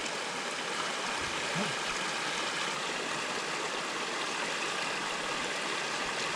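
A creek flows through Colorado woods with a steady, even rushing of water that holds constant from start to end, with no voices over it.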